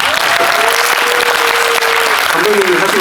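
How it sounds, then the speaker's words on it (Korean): Loud, sustained applause from a cinema audience at a special screening Q&A for a Korean film, steady clapping filling the room with a faint tone running underneath. "그럼 박수 한번 보내주세요"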